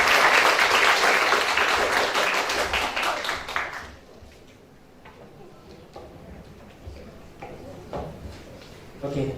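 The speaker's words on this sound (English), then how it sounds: "give applause to the Dr." An audience at an international summer course in development economics in Jember claps loudly for an invited speaker for about four seconds, then the applause fades to scattered claps and room noise.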